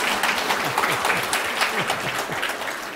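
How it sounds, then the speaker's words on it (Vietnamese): An audience at a Buddhist dharma talk breaks into brisk, dense applause, the claps close and steady for a few seconds, with a voice faintly present beneath them. "Vậy vỗ tay."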